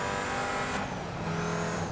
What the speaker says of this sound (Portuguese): Olha o ronco do carro, cara.